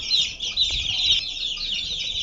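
Young chicks chirping continuously at close range, a dense, high, overlapping peeping with a few soft thumps and faint clucks beneath, no speech.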